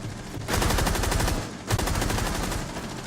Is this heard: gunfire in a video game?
yes